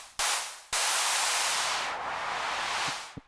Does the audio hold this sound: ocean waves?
no